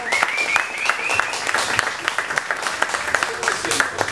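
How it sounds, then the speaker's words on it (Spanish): An audience at a theatre event claps for an arriving guest, irregular, fairly close handclaps with distinct sharp strikes and small cheers, while a voice talks over the applause. "Un aplauso para Gino Benga,"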